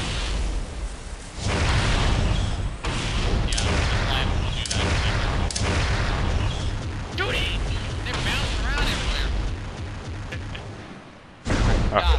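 Gunfire from the video game Halo: Custom Edition, sustained bursts of shots and booming blasts that run loud for most of the stretch, with a brief lull near the end before firing resumes; a player's voice can be heard over it.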